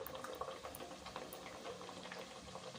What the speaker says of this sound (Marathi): गरम तेलामध्ये आता आपण ह्या पुऱ्या तळून घेऊया